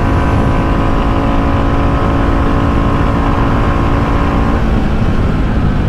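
A 2023 Royal Enfield Bullet 350 motorcycle ridden hard in fifth gear near its top speed, giving a loud, steady engine drone with heavy wind rush throughout, no talk.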